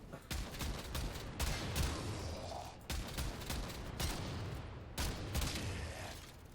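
Kuva Brakk shotgun fire in the Warframe video game, several sharp, loud blasts with busy combat noise between them and no talk.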